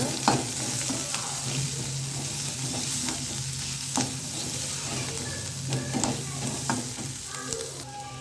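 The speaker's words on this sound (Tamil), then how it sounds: "இது கூட இஞ்சி, ஒரு துண்டு இஞ்சி, கொஞ்சமாக பூண்டு சேர்த்துக்கலாம். நல்லா வதக்கி எடுத்துக்கோங்க." Onion fries with a piece of ginger and a little garlic in a pan for egg gravy, sizzling steadily up close while a spoon stirs and scrapes at irregular intervals, without any speech.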